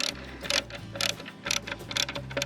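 Self-tapping screws are driven into a plastic headlight guard on a BMW GS motorcycle, giving short, irregular bursts of close ratcheting clicks.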